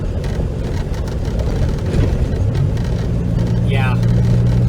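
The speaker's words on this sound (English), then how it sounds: "The car picks up, it goes." A DeLorean with reworked front suspension drives along and gathers speed, its engine and road noise rumbling steadily from inside the cabin while people talk over it.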